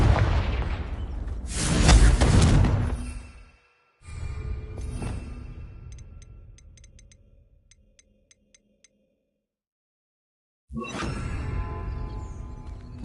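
Confringo spell cast in Hogwarts Legacy: a loud, broad fiery blast that trails off into sparkling ticks and a fading tail, then silence before another burst of magical impact.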